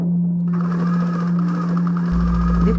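A sewing machine hums steadily up close while sewing a short seam of about fifteen centimetres on fabric for a scissor holder, with an even whir the whole way through and no voices.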